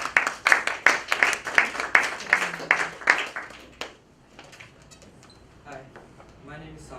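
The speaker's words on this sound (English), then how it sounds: "Let's go ahead and give Sagar a round of applause, please." Audience applauding a student speaker, rhythmic unison claps at a steady beat for about three seconds, then the clapping stops and a voice begins over quiet room tone.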